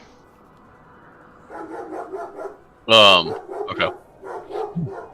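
A dog gives one loud, sharp bark, followed by softer whimpering yips, with people talking close by before and after.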